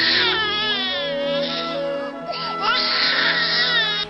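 An infant wails loudly and continuously, with rising and falling cries and a brief catch of breath midway before the crying resumes.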